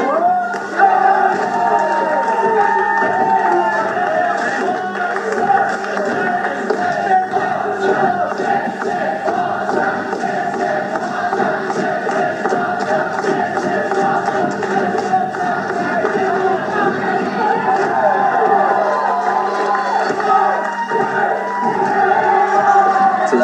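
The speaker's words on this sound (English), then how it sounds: "The crowd was astonishing in that match." A dense wrestling crowd roars and cheers steadily throughout a match on Hulk Hogan appreciation night, a loud continuous wall of voices with no clear breaks.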